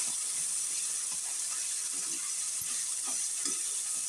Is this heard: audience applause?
no